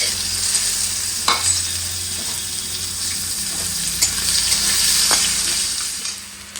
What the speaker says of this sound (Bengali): এবার যেই তেলটা আছে ওর মধ্যেই দিয়ে দিচ্ছি ফোড়নে জিরে, শুকনো লঙ্কা আর তেজপাতা, পেঁয়াজ